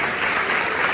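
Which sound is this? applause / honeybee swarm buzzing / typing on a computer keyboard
applause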